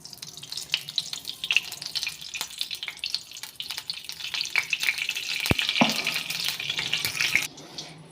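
Oil hits a hot kadai, setting off a close, crackling sizzle that grows denser and brighter about halfway through after a sharp splash, then cuts off near the end; no one speaks.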